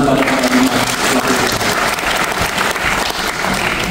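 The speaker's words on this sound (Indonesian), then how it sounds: "Kita berikan apresiasi tepuk tangan kepada para pelaku" Audience applause at a public presentation on Indonesian capital city (IKN) development, steady dense clapping from a large crowd filling the whole stretch, loud and sustained without a break.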